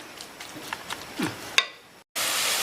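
Bitter lemon pieces cooking in a pan, soft sizzling with several scraping stirs and a sharp utensil knock, then a sudden loud burst of hiss near the end, close by.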